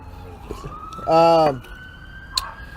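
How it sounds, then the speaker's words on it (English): Real police sirens sound outside, a short loud wailing burst partway through, with faint talk and room sounds around it. "We got the sirens going, and those are actual sirens."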